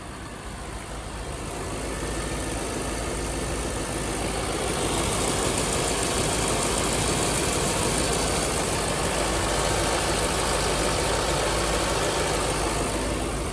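A 2003 Chevrolet Corvette convertible V8 with six-speed manual idles up close near the engine belts, a steady, continuous mid-pitched engine hum that swells slightly in the first few seconds and then holds even, with no talking.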